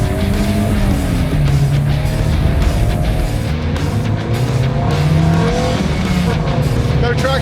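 A Toyota AE86 and a GTI race side by side, their engines roaring loudly and continuously with a rough, strained drone as the tires spin without traction.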